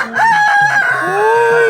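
A rooster lets out one loud, close crow that rises and holds, with a short rhythmic clucking pulse underneath.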